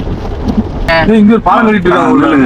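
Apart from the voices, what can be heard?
sudden heavy rain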